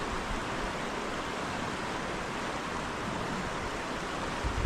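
A strong river current swollen by a typhoon rushes down from the mountains carrying logs in Tanay, making a steady, dense roar of water that is loud and unbroken throughout, with no voices.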